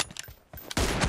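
Gunfire from an M24 rifle in PUBG Mobile, a duo-versus-duo team deathmatch, comes as a few sharp close reports, with scattered lighter shots first and then a loud sustained burst of firing at the end.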